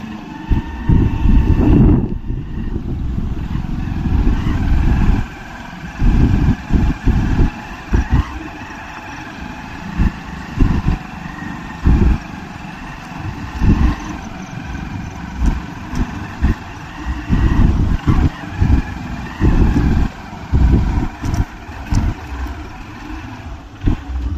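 A vehicle travels an unpaved dirt road toward the foot of Bhavani Aai hill at Harsul, its engine rumbling loudly and steadily throughout, with repeated bumps and jolts punctuating the drive.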